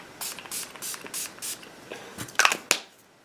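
A pump spray bottle of Urban Decay B6 Vitamin Infused Complexion Prep Spray gives a quick series of short, soft facial misting bursts, evenly spaced, followed by a couple of sharper clicks, close by.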